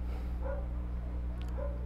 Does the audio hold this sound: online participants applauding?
no